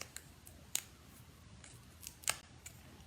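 Scissors snipping paper for handmade Stampin' Up! cards, several quiet, sharp crisp cuts spaced irregularly over a soft room hush, with no talking.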